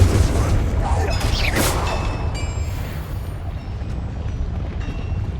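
Blasting spell explosions from fantasy video game combat in Hogwarts Legacy, a rumbling burst with crackling debris over a steady low roar, loud and continuous, with battle effects layered throughout.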